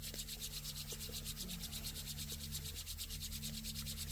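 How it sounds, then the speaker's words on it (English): Bare palms rub briskly together in a steady back-and-forth rhythm, close and continuous, making a soft, even friction hiss with no speech over it. "And one last time, rub the palms together."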